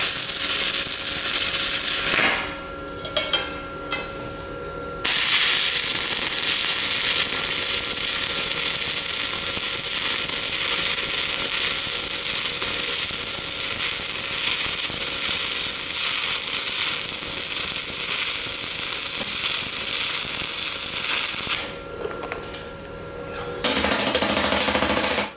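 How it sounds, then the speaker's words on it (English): SIP Autoplus 130 welder on 3 mm steel offcuts: brief tack bursts, then a long continuous crackling, sizzling weld bead for about sixteen seconds, loud and close, ending with a short final burst. "So these are some 3 mil offcuts. I'm going to just tack them up and run a weld."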